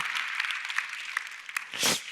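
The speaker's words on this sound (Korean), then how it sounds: "박수 한번 해서" A congregation at a Friday worship service claps briefly, a moderate scatter of hand claps tapering off, followed by a louder burst of sound at the end.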